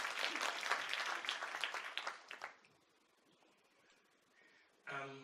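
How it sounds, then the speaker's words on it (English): Audience applause at a graduation ceremony, a loud burst of many hands clapping that fades after about two and a half seconds into quiet room noise, with a brief sharp sound at the end. "Can we clap for the second PCC in the region?"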